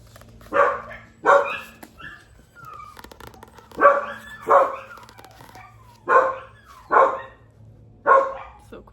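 Dogs barking outdoors, seven or so loud, evenly spaced barks in pairs with quieter gaps between, nearby and clear against a low background hum.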